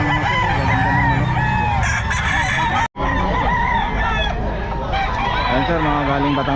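Roosters from Batangas crow at the Bocaue pet market, loud, drawn-out calls repeating over a busy, chattering crowd, with people talking throughout.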